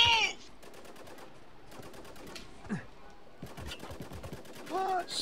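Mounted turret machine gun in Spec Ops: The Line firing in several rapid bursts, fairly loud, with short pauses between them and some voices and game noise in between.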